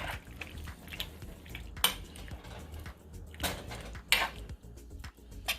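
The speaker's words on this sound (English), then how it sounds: "I'm just gonna stir it to just ensure everything is just gonna cook evenly" A spoon stirs beef stew in a pot, giving irregular metallic scrapes and clinks against the pot's side with a few sharper knocks, close and fairly quiet, with a faint wet bubbling between strokes.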